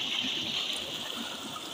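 Water gushing steadily from a tube well outlet, a constant bright rushing and splashing that stays even throughout, close and fairly loud with no speech.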